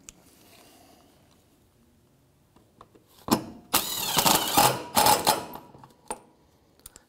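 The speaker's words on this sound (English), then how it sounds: "One more 10 mil bolt down the bottom to put in here" A 10 mm bolt is fastened at the bottom of a 2007-2013 Mitsubishi Outlander front bumper, with a loud mechanical whirring in several short bursts after a quiet stretch, then fading to light clicks.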